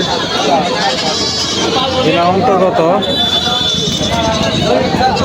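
Goats bleat in wavering cries at a busy goat market at Jamalpur Chowrasta in Gazipur, heard under someone talking close by, with a steady crowd murmur behind.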